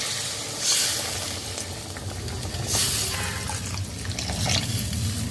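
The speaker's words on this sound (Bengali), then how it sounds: "গরম জল অ্যাড করে দেবো" Hot water poured into a pan of frying radish and fish, giving a steady loud sizzle and bubbling hiss with brief surges of splashing liquid throughout.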